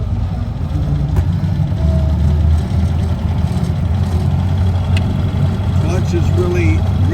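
A 1929 Marmon Roosevelt straight-eight car runs with a steady, low engine rumble that continues throughout, close by and fairly loud, while a person talks over it.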